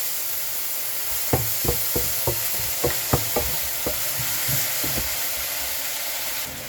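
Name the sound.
soy sauce added to frying kale and pork, sizzling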